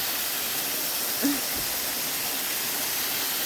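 A park waterfall pours in a steady, broadband hiss and rush that never changes, heard from a distance with no voices over it.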